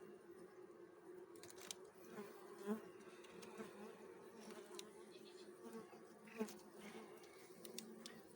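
Honeybees buzz on a hive frame from a colony weakened by mites, checked in September before wintering. A close, dense, continuous hum carries individual bees flying past.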